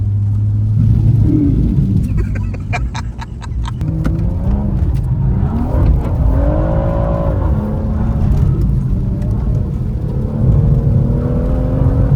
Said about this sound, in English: Intake sounds really cool, by the way.